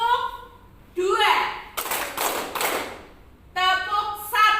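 A class of students clap hands together in a counting clap game, two sharp bursts of clapping amid a teacher's voice and children's replies.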